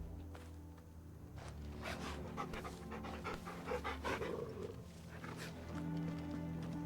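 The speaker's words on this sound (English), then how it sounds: "There's a dog in the box." Dog panting inside a box in Final Fantasy XVI, a steady run of quick breathy pants, fairly close and moderately loud, over a constant low game ambience with no one talking.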